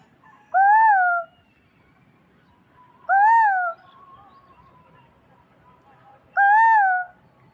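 Three loud, rising whistled calls from a nearby Asian koel come at spaced intervals, with a faint softer call between them and quiet background noise.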